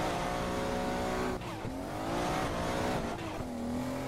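A drift car accelerates hard on a Brazilian championship drift track, its engine revving up in rising surges with a brief lift-off midway and tire squeal, loud and close with no talking.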